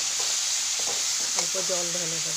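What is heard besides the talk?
sautéing tomato chutney with turmeric and salt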